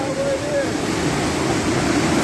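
Floodwater in Grenada rushing past in a steady, loud broadband roar like a fast stream, continuous throughout with brief faint voices over it.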